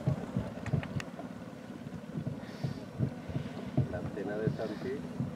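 Boats passing during a regatta league exhibition outdoors, with wind buffeting the microphone, a series of rhythmic knocks and voices nearby.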